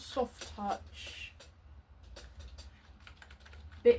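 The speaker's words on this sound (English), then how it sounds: "Bit clacky, but I love a clacky keyboard" Typing on a new clacky computer keyboard, a string of light sharp key clicks in uneven bursts, close and fairly quiet, with a person talking over it.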